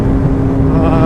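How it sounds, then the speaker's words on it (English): A Suzuki GSR750 motorcycle with a Yoshimura R11 exhaust, baffle removed, drones loudly and steadily at night, a close continuous engine hum mixed with road noise and no clear talk. "I don't know if you can hear the exhaust on there."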